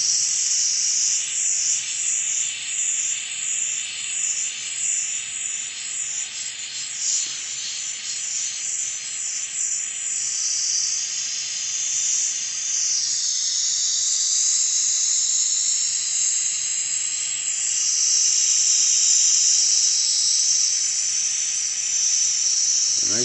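A torch flame melting 18k gold alloy with flux gives a steady, bright high-pitched hiss that runs unbroken and loud, shifting slightly in tone as the flame moves, with no talk.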